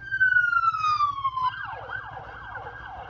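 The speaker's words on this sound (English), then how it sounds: "There's a police car coming and I don't know where he is." A police siren wails, one long descending tone followed by rapid repeated up-and-down sweeps, fairly close over low engine rumble.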